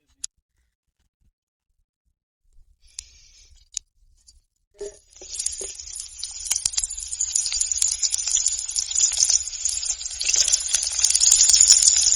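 Food hits a greased pan over an open outdoor fire. After a few quiet taps a steady sizzle rises and keeps building in loudness, mixed with faint stirring scrapes and nobody talking.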